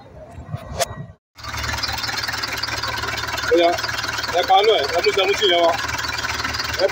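A Mercedes-Benz 814 Ecopower truck engine runs at a steady, fairly loud idle after a brief silence, with a voice talking over the hum.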